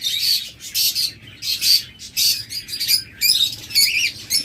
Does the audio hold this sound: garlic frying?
no